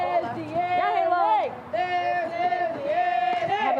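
A softball team cheers and chants together in the dugout during a pro game. Sustained, tuneful group voices hold steady, pause briefly, then start up again close by.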